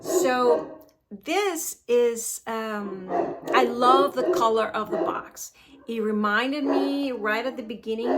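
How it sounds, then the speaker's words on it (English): A pet dog barks in a few short bursts somewhere in a home, half buried under someone talking steadily close to the mic. "Excuse my dog."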